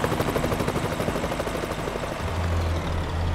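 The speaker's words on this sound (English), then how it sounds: "a helicopter just flew over." A helicopter in Euro Truck Simulator 2 passes overhead, a steady loud rotor-and-engine drone with a low rumble that deepens toward the end, heard alone without talk.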